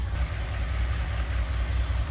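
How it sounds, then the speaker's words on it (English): A 1958 Ford Fairlane 500 convertible's V8 idles with a steady, deep, low rumble, close up and even, with no talking. "little rumble coming out of that V8"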